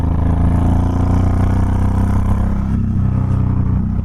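Honda VTX1800 cruiser motorcycle engine revving hard, a loud, close, continuous low throaty roar with dense harmonics that swells and holds steady throughout.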